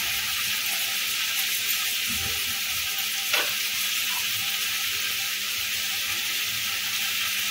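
Vegetable fried rice being stir-fried Chinese style, with vinegar, sugar and seasoning added, gives a steady, close sizzle and hiss throughout, broken once by a brief sharper scrape near the middle.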